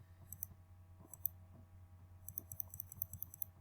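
Quiet keystrokes on a computer keyboard tapping in two short clusters, a few isolated presses first and then a quicker run near the end, with a steady low hum underneath.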